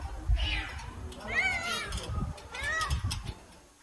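A kitten stranded in a tree in Van meows in a few rising, plaintive cries, faint and somewhat distant over outdoor background noise.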